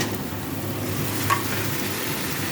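Chopped taro stolons fry in a pan with garlic and onion, a steady close sizzle of hot oil running throughout with faint stirring scrapes and no voice.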